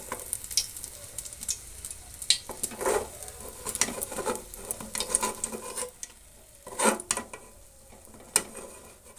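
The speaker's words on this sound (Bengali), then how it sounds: "এইভাবে ভালোভাবে একটু এপাশ ওপাশ মুচমুচে লাল করে ভেজে নেব।" Pieces deep-frying in hot oil, turned until crisp and red, with steady sizzling and bubbling broken by scraping stirs and clinks of utensils against the pan, close and fairly loud.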